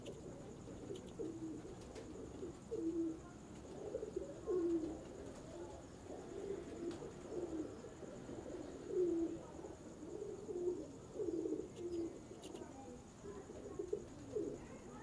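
Pigeons coo softly and repeatedly, low throaty calls rising and falling over a quiet background, fairly close.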